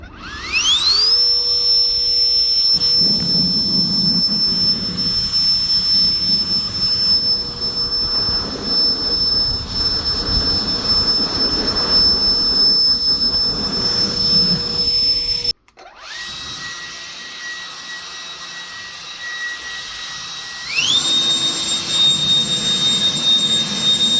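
A battery-powered turbo fan spins up to high speed with a loud jet-like whine and rushing air, drops briefly to a lower tone, then ramps back up to a steady shrill roar, with no talking.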